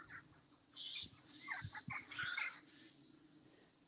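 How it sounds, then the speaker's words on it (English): Jackdaws call outdoors in harsh, scratchy bursts, several overlapping cries at middling distance, fairly faint over a quiet background. "I don't know if you can hear those birds that sound like wounded vultures."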